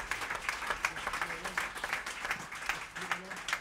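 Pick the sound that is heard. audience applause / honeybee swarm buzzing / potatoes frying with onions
audience applause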